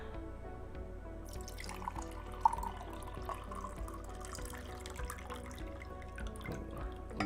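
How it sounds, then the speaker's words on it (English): Water pours and drips, a light trickle with small drips that continue steadily and softly throughout, heard alone over a quiet tonal background. "Let me pour some more water."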